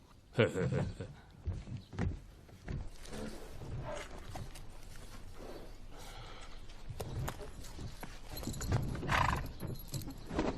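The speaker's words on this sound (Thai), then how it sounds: "ท่านแม่ทัพเฟิงอิงมาขวางรถม้าขอรับ" A horse-drawn carriage in a Chinese historical drama is stopped on the road. Hooves clop, a horse whinnies and gear rattles, all under dubbed voices talking.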